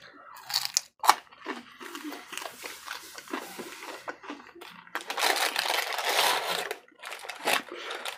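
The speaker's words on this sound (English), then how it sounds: "Yeah, I'm eating chicken." Eating Church's campfire smokehouse chicken with rub, close-up crunchy bites and sticky chewing in irregular bursts, a louder sustained crunching stretch midway, no talking.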